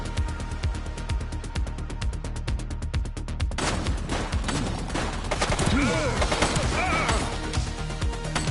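Gunfire in the police video game The Precinct: rapid, evenly spaced automatic shots at first, then a denser, chaotic barrage of overlapping shots and impacts, loud and close throughout.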